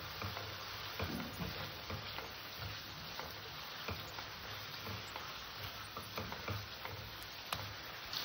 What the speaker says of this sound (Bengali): মশলাটাকে ভালো করে একটু কষে নেব